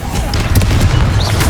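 The Confringo spell from Hogwarts Legacy fires as a loud, booming blast with a sharp thudding impact and crackling follow-through, the whole short burst sitting up close and heavy.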